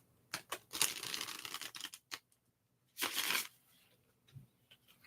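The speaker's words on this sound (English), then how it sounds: "Oh, that was a fun shuffle." A deck of cards is shuffled close and soft: quick riffling flutters and crisp snaps in a few irregular bursts, with quiet pauses between them.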